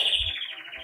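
A pet bird indoors sings a brief high chirping trill, close and clear over a faint low room hum.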